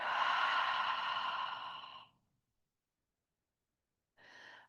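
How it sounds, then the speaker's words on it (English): One long, audible exhale of a deep breath, close and soft, trailing into silence before a short second breath begins. "take a nice deep breath all the way in, deep breath all the way out"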